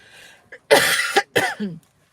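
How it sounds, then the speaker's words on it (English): Several sharp, harsh coughs up close, coming in quick bursts with short pauses between, and no talking. "Excuse me, coughing."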